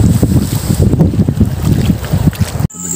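Strong night wind over the open sea on a spearfishing trip, a loud, constant buffeting roar with low rumbling gusts hitting the microphone, cutting off abruptly near the end.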